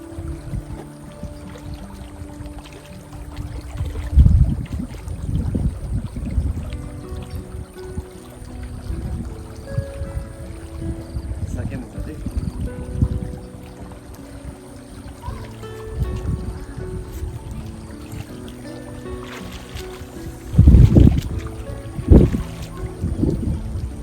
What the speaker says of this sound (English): down here flows a small stream